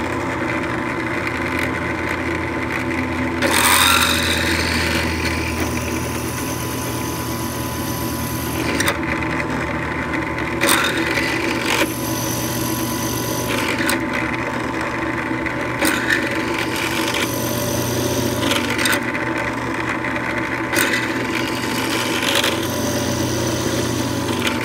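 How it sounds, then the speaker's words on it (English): Power tool cutting through a metal piece lubricated with cutting oil, a sustained grinding mechanical whine with periodic changes in pitch and load, loud and close, no speech. "A little bit of cutting oil, and we're going to cut through that next piece right now."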